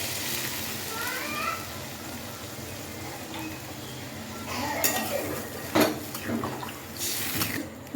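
Water is poured into a pot of potato curry (alur dom) on the stove, with a soft splash, clinks of pots and utensils, and a brief clatter, fairly quiet and close.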